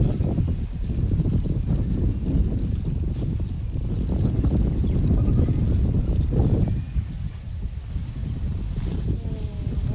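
Strong southwest monsoon wind batters a small boat on the water under an overcast sky, a steady loud roaring rush against the microphone that eases slightly near the end.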